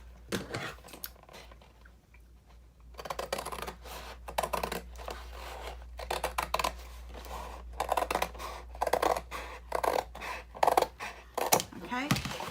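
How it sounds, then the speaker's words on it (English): Scissors snip repeatedly through a cardboard box, a quiet start giving way to a run of close, crisp cutting strokes with rustling in between. "So I'm going to go ahead and cut this piece off."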